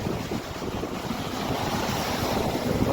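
Strong, roaring typhoon wind from Typhoon Paolo batters the microphone continuously on a rocky shore, mixed with the crash of surf nearby, loud and unbroken throughout.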